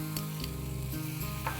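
Butter dropped onto hot glowing charcoal set in a pot of Maharashtrian misal, giving a loud, continuous crackling sizzle close up with no talking.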